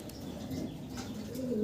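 Danish pigeon with cream bar coloring cooing softly, a low continuous murmur with some faint chirps, fairly close and on its own, no voices present.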